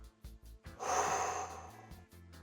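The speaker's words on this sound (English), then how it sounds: "That's a little breathing exercise I do when I have negative thoughts." One person does a breathing exercise, taking a long, audible breath in and blowing it out through the mouth at close range, with rhythmic background music under it.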